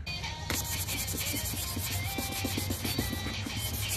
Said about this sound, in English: we're going to use the 400 grit to wet sand it